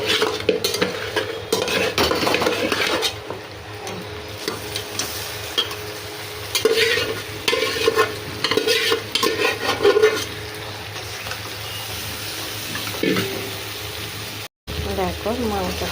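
Mutton is stirred in a hot pan, a spoon scraping and turning the meat with a steady low sizzle, the clatter coming in bursts alongside intermittent talk.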